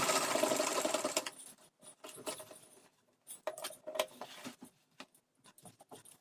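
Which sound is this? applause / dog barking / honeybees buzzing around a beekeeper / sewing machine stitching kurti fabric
sewing machine stitching kurti fabric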